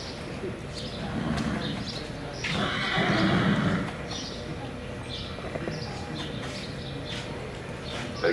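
A colt neighs and whinnies during a colt starting challenge, the call rising loudly around the middle amid arena ambience, with hoof clip-clop and faint birdsong in the background.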